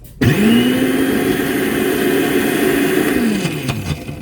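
A Hamilton Beach smoothie blender motor runs steadily at a high, droning whine for several seconds on its chop setting, then winds down near the end.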